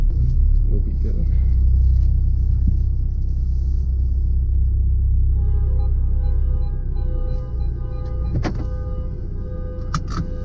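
A VW MK7 Golf R idles with a deep, steady engine and exhaust rumble close by. Its low drone holds throughout, and a faint tonal hum joins partway through.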